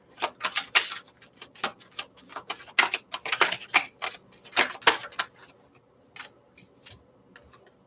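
Rapid, crisp clicking and flicking of tarot cards being shuffled, in irregular bursts that thin out toward the end.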